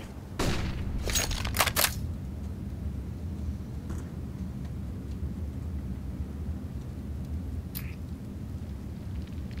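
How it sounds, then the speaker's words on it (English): A flashbang grenade goes off in a video game as a sharp burst of cracks and crackling noise, followed by a low rumbling ringing bed and a couple of faint later clicks. "Deploying flashbang."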